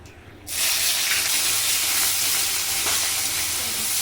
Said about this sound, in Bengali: পেঁয়াজ খুব ভালো করে ভেজে নেব